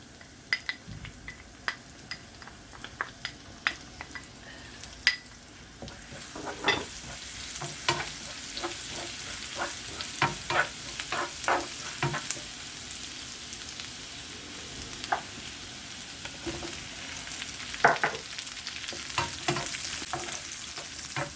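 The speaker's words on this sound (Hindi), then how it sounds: "अब हमने इसमें 2 चम्मच ऑयल डाला है और ऑयल गर्म हो गया। अब इसमें सफ़ेद ज़ीरा डालेंगे" Cumin seeds and garlic hit hot oil in a pan, giving a soft continuous sizzle with scattered crackles and the occasional scrape of stirring, heard close and fairly quiet with no speech.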